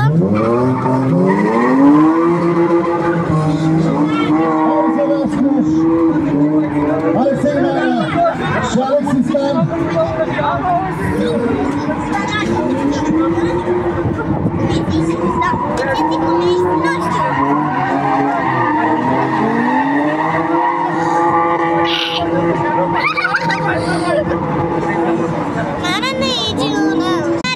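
Race cars skidding around a track, repeated rising and falling tire squeals and engine sweeps from passing cars, with spectators chattering and talking close by throughout.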